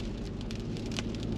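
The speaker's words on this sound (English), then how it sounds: "Bunch of snow, freezing rain" Freezing rain hits a car during a drive through snow: a steady, dense patter of drops on the body and glass, continuous and close, with no voices.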